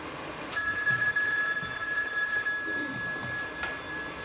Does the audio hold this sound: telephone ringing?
yes